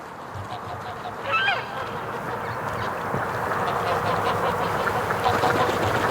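A group of Muscovy ducks in a yard by a lake, giving soft, scattered honks and calls against steady outdoor background noise at a moderate distance.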